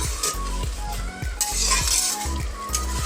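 Mustard seeds sizzle and crackle in hot oil in a pan, a close, continuous frying hiss with faint clinks of utensils.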